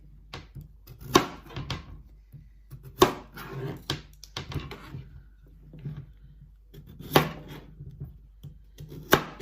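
A knife chops through sweet potato on a cutting board, cutting it into fry-shaped pieces: a run of sharp, close knocks at an uneven pace, with a few louder thuds standing out. No one speaks.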